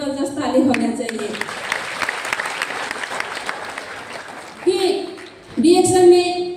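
An audience breaks into loud applause at a talk, the clapping running for several seconds before a voice cuts back in and carries on speaking.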